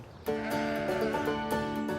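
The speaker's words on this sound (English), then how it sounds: "Sheep over there." Sheep in a farm flock letting out a loud, sustained, wavering bleat close by, with brief clicks and faint bleats from other animals around it.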